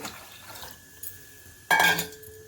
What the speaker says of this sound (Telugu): రెండు గ్లాసులు వాటర్ పోసేస్తున్నాను